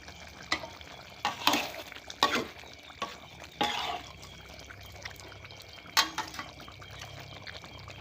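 Food cooked with coconut milk is stirred in a pan, with several distinct scraping strokes spaced over a low simmering sizzle, then a quieter stretch.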